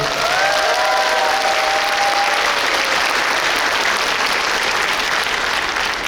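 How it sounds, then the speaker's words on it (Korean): Outdoor audience applauding steadily after children perform Korean traditional music at Seoul Nori Madang, a dense, loud wash of clapping with faint cheering whistles early on, no talk over it. "박수 한번 다시 한번"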